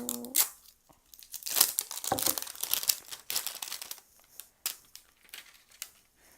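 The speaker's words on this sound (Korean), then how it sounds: "은근 봉지 소리, 봉지 뜯는 소리도 좋은 것 같아요." A plastic packet holding stationery-store slime is ripped open close up, giving bursts of sharp crinkling and tearing with short pauses between pulls, loud and with no talking.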